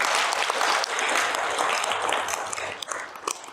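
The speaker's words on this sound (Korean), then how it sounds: "대중들과 함께 박수를" An audience at a Korean Buddhist seminar with twelve scholars gives sustained applause, a dense wash of clapping that thins slightly toward the end.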